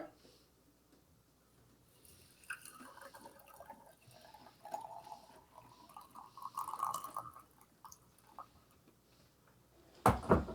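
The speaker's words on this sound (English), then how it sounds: "you put it in the infuser, you put it on your teacup, and you add your hot water" Hot water poured over a tea infuser sitting on a teacup, a quiet trickling pour rising and fading in the middle, then a sharp clink of cup or lid at the end.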